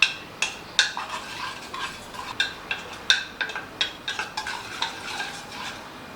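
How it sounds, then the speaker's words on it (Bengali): A spoon stirs spice powder into water in a bowl, making steady, rhythmic metal clinks and scrapes about twice a second, close and alone, for Bengali vegetarian chhanar dalna. "মশলাটাকে খুব ভালো করে গুলে নেব"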